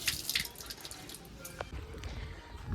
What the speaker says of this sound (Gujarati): માથું અડાડવાનું, આમ પાણી ચાલુ થયું પછી આમ પીવાનું